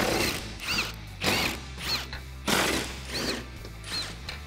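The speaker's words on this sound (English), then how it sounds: "Grab your 13 millimeter socket and remove these 4 bolts." A ratchet with a 13 mm socket loosens bolts on a Jeep Wrangler JK tailgate, giving repeated close clicking bursts in an uneven rhythm, each burst a rapid metallic ratcheting rasp.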